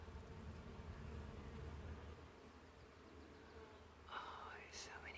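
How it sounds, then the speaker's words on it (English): Many bees buzz around blooming sugar bush flowers in a spring garden, a faint continuous hum up close, with a soft voice near the end. "Oh, there's so many bees."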